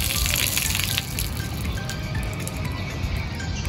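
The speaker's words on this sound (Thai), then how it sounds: "เทน้ำเก่าทิ้ง" Old nutrient water poured out of a hydroponic vegetable grow box, a continuous splashing gush with small clinks, close up and steady throughout.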